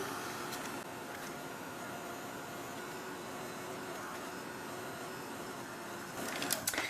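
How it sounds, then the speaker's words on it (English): A heat tool blows hot air over a wet painted art journal page, a steady broadband whoosh that runs throughout at an even level, growing slightly louder and rougher near the end. "I'm just going to give it a whiz with the heat tool"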